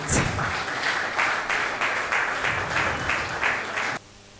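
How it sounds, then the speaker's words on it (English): An audience at a Calabar tech mixer claps in steady, rhythmic bursts roughly twice a second, loud and close, then stops abruptly near the end. "can we please clap as Mr. Chibuike Mba takes his seat"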